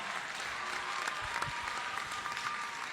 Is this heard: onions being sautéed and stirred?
no